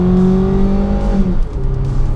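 A 1995 Vauxhall Cavalier with a 2-litre 140 horsepower engine revs hard in S mode, a loud close rising drone that climbs steadily, then drops briefly as the gear changes and pulls again.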